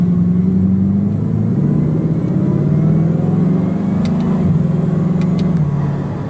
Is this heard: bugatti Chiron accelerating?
yes